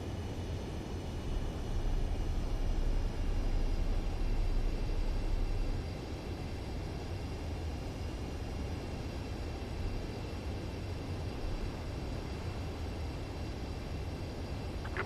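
A jet aircraft lands in the video game Ace Combat 7, a steady broadband engine roar that drops slightly in level partway through and then holds even to the end, with no voices.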